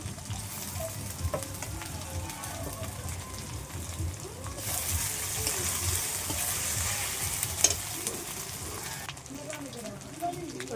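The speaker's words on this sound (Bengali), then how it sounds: "আবার দেবো রসুন, রসুনটাও কিছুক্ষণ ভেজে নেব।" Garlic fries in a pan of browned onions for a chicken curry, a steady sizzle that swells into a louder hiss midway, with stirring scrapes and a voice talking faintly underneath.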